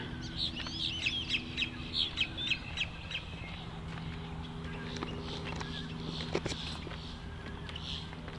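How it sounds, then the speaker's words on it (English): Wood hens at Green Cay Preserve cluck and chirp in a series of soft, close calls over a steady low outdoor hum, with the calls thinning into scattered faint notes later. "I wonder if these wood hens are some kind of duck."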